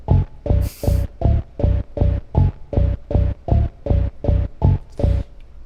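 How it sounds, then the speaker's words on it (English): A basic synth bass sample EQ'd with a low-pass filter, twelve evenly spaced loud, deep pulsing notes repeating in a steady throbbing rhythm, played alone without voices. "On its own, it's just a basic bass sound."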